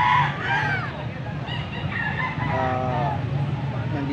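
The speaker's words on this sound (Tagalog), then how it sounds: "Nandito tayo sa bintahan ng mga manok" Roosters and chickens at a poultry market in Angeles City, Pampanga, crowing and clucking in a busy, overlapping chorus with steady crowd noise beneath.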